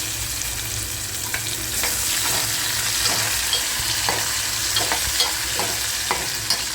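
Chopped tomato hits hot tempering oil for a matki rassa bhaji, giving a steady close sizzle with intermittent scraping clicks from stirring, and no voices.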